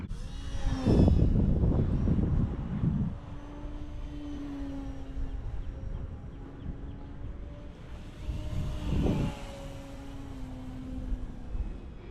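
Fast RC plane flying at half throttle, a motor whine rising and falling as it passes near, then drifts off and comes back, with light wind noise and no talking.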